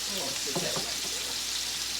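Smothered red potatoes with smoked sausage and bacon frying in a pan with gravy, a continuous moderate sizzle with a few spoon scrapes and clunks around the middle as the mix is stirred, no talking.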